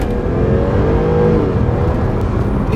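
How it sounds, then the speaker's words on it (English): A 2018 Jaguar XE S with a 3-litre supercharged V6 petrol engine accelerating, a loud, steady engine drone and whir from inside the car with slowly rising tones, heard alone. "it's a 3-litre supercharged V6 petrol engine which produces 380 PS and 540 Newton meters of torque"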